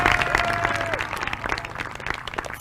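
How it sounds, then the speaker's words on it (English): Crowd applause for senior baseball players and their parents at a high school ballpark, fairly loud and continuous, with a brief tonal sound near the start. "Ladies and gentlemen, one last applause for these young men and their parents."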